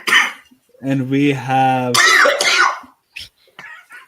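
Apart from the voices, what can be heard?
coughing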